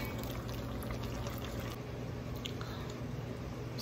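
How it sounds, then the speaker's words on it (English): Beef broth pours steadily into a Dutch oven for French onion soup, a continuous liquid splash and bubbling wash that runs evenly throughout at moderate level with no talking. "then I'm going to add the beef broth"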